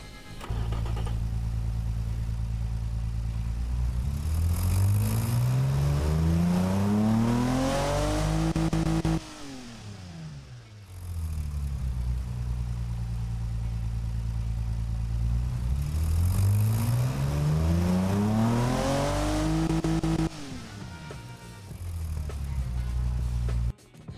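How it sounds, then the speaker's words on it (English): A straight-six naturally aspirated engine in the video game Automation revs up twice, each time climbing to a high wail before cutting off sharply, loud and alone. "That thing sounds absolutely beautiful for a straight 6 NA engine."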